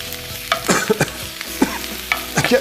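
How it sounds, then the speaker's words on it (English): Chicken wings searing in a pan with butter; a spatula scrapes and taps in irregular strokes over a soft steady sizzle, close by, with no talk. "Secret here is giving a really nice sear, okay? Bit of butter, cool them down."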